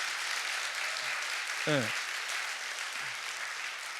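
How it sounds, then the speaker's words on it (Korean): A church congregation applauds as a steady, moderately loud spread of clapping. A voice speaks briefly over it partway through. "이때 박수를 한번 쳐줘야 돼요."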